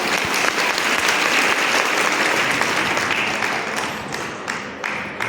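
A school function audience breaks into dense, steady applause, loud and continuous throughout before easing slightly near the end.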